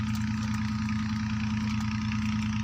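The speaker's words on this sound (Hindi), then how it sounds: "एक अदद गाजी ट्रैक्टर है जिहदे ते बोर चल रहा है।" A Ghazi tractor, a 2015 model, idles at a farm well while running a bore pump, giving a steady, loud, continuous low rumble with an even throbbing pulse and no other sounds.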